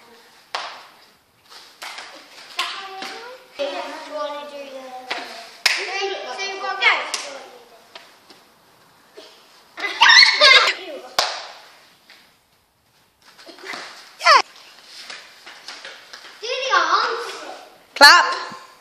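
Sharp hand claps at cheerleading practice ring out in irregular bursts between spells of children's voices and a coach's calls, with louder clusters of clapping near the middle and end.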